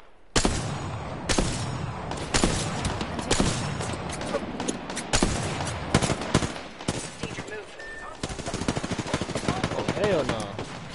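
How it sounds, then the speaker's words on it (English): Incoming gunfire hits the player in the Apex Legends video game: loud bursts of rapid shots and impacts crack repeatedly across the scene, with game voices talking over the shooting. "I am taking fire, friends."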